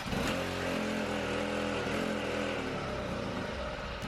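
A pull-started four-stroke engine on a motorized bicycle runs steadily at close range, a continuous even drone with no speech over it.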